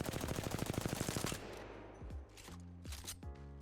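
A burst of rapid automatic gunfire in Apex Legends during a recoil demonstration while standing still, loud and evenly spaced shots for over a second, then a few quieter game clicks and tones.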